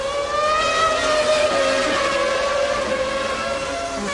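Formula 1 race cars from the 1997 season, including a Ferrari, screaming past on track, with high-pitched engine notes wailing and overlapping continuously at loud, close range.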